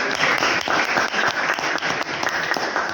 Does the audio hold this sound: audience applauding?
yes